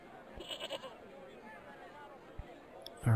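Goat bleating in the video game Broken Sword 2, a few short faint bleats early on over a low background hum, followed by quiet game ambience.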